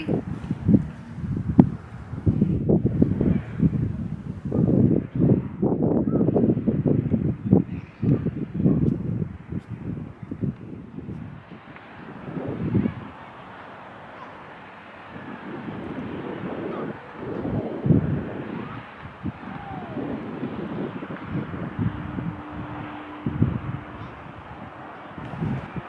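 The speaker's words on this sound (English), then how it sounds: "I am at the rooftop and it's very windy" Strong wind buffeting a microphone on a snowy Vancouver rooftop during a snowstorm, loud gusty rumbles and bursts that ease into a softer steady rush, then pick up again, with no voices.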